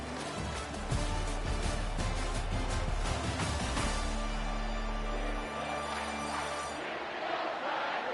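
Stadium crowd in a college football video game roaring after a sack, LSU versus Oklahoma, a loud continuous swell of cheering with deep rumbling that eases toward the end.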